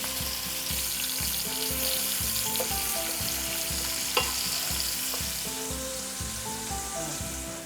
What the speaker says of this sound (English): I'm also going to be cooking this until it's nicely browned on both sides